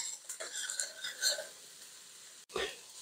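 Eggplant spritzed with olive oil gets stirred in a pan, with soft clinks and scraping of utensil against the pan in a short burst, then a brief pause and another light scrape.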